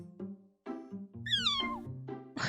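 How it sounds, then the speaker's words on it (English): A cat's squeaky meow in the video game Love Spell: a high, rising-then-falling cry heard near and clear over soft, sustained game music tones. "Love her squeaky meow."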